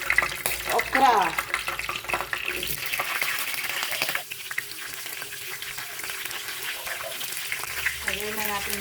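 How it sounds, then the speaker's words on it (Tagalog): Okra frying in a pan of hot oil, a steady bright sizzle and crackle running throughout, with occasional stirring clatter and a voice talking over it. "Sunod ko nang piprituhin ngayon yung okra."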